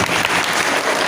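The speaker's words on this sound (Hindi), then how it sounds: "ताली बजाओ भाई के लिए" A church congregation applauding a brother, a short burst of dense, loud clapping from a crowd that fills the room.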